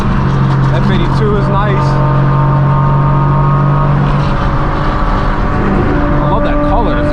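A BMW M4 G82 with a straight-piped exhaust idles and revs with a harsh, droning exhaust note, steady throughout, while someone talks over it.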